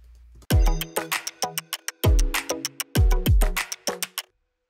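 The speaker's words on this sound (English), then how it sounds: "show you how to make a rigid percussion loop" A short, tight percussion loop of clicky, woody hits and low thumps in a stiff, evenly spaced rhythm, close and clean, ending abruptly.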